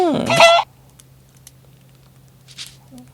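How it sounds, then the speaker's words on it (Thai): A chicken in the video game Mini World gives a short, loud cluck right at the start. Only faint scattered game noises follow over a steady low hum. "เสียงไก่อยู่ไหน เสียงไก่อยู่นี่ครับ"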